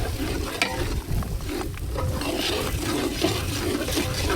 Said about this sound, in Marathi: हे पाणी उकळत आहे ना